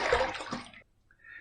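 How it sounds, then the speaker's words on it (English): Water splashes and runs for under a second while a face is rinsed after the second pass of a shave, then cuts off into near silence with a faint hiss at the end. "Let's rinse."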